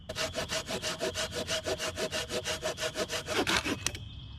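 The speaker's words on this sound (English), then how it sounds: "Okay, we sawed it. We sawed it all." A hand saw cuts through dry wood at a lakeside campsite in steady, rhythmic back-and-forth strokes, about five per second, close and rasping, ending abruptly.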